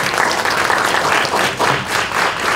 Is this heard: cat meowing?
no